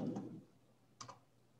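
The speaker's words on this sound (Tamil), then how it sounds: "கீபோர்டு டைப் பண்ணுறேன்." A computer keyboard being typed on, two short bursts of clicky keystrokes about a second apart, close and fairly quiet with nothing else audible.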